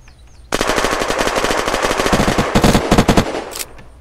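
Automatic weapon fire in the video game Unturned breaks out after a brief quiet, then rattles on in a long, loud, rapid burst of close shots that ends in a few separate pops before fading.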